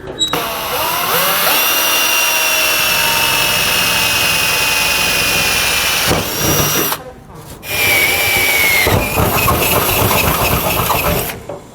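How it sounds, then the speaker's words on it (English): Power drill boring holes to mount a solar battery charger panel with nuts and bolts, loud close whine running steadily for about seven seconds, a brief stop, then another long drilling burst. "We're just going to drill some holes and then use nuts and bolts to secure it."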